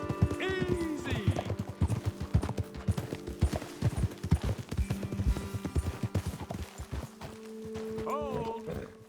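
Several horses trot in Red Dead Redemption 2, hooves clip-clopping steadily up close, with a short whinny near the start and a fainter one near the end.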